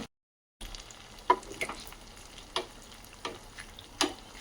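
Ghewar batter frying in oil makes a quiet continuous sizzle, broken by several short sharp clicks and taps at irregular intervals, heard alone after a brief silent start.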